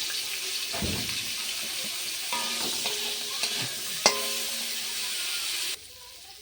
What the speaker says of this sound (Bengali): এবার এই তেলের মধ্যে আমি ফুলকপিগুলো ভেজে নেব।